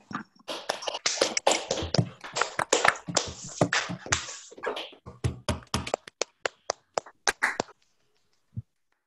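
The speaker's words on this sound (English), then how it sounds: "let's try to have everyone unmute and clap" Scattered claps and hand taps from an online audience unmuting, dense and overlapping at first, then thinning to separate isolated claps before falling silent.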